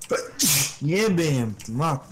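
A single sharp sneeze bursts out close to the microphone while friends chat over voice during a PlayerUnknown's Battlegrounds match, with talk before and after it.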